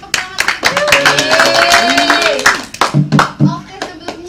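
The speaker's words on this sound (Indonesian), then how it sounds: "Beri tepuk tangan." Clapping from a classroom of students during a micro-teaching economics lesson, a burst of hand claps mixed with children's voices and chatter, fairly close and lively, tapering off into scattered talk.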